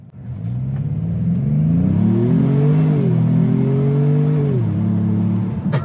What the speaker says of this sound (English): it makes the coolest like whir sound when it's spooling up